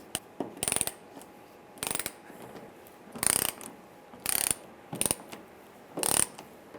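Quick bursts of ratchet wrench clicking as fuel pump retaining bolts on top of a 1995-2001 Ford Explorer fuel tank are loosened one after another, about seven close, crisp bursts separated by quiet pauses.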